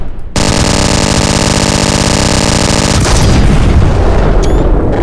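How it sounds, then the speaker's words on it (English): A handheld Gustav cannon in Garry's Mod fires loud, sustained rapid blasts with dense booming reports, then a bigger explosive burst around the middle that is followed by rumbling debris noise. "the handheld Gustav cannon"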